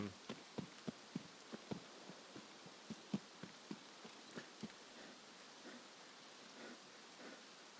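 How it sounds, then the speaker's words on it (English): Steady, faint rain hiss falls across an Escape from Tarkov match, with sharp clicks and taps repeating through the first five seconds before the rain continues alone. "Rain's not going to do us any favors."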